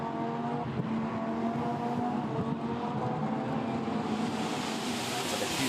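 Lamborghini Super Trofeo race car engines roar and whine continuously at a distance at Spa, a steady wash of motor noise with no talking.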